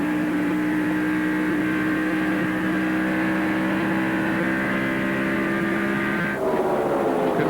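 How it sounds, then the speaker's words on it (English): Ron Hornaday's race car engine at the 2003 Busch Series race at Chicagoland drones at a high, steady pitch, then shifts sharply and climbs again as it accelerates, loud and continuous with no talking. "Listen to the accelerator on Hornaday's car."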